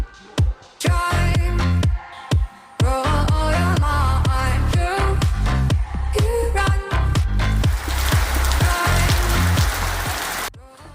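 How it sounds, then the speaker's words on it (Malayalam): Rain pours outdoors during home flip practice, a steady broadband hiss of drops hitting surfaces that swells louder and denser toward the end, with some busier, irregular sounds mixed in early on. "നമ്മൾ ഫ്ലിപ്പ് ചെയ്യുന്നതിനിടയ്ക്ക് നല്ല അടിപൊളി മഴ കിട്ടി"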